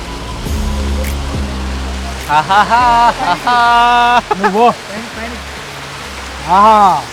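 A waterfall gives a broad, constant rushing roar throughout, loud and close, with people talking over it for much of the time.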